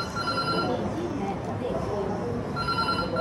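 A telephone ringing indoors, with a steady repeating electronic ring tone heard at the start and again near the end, beneath continuous background noise and nearby voices.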